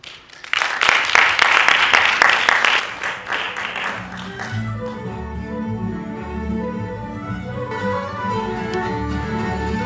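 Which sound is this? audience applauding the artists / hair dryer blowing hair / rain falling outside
audience applauding the artists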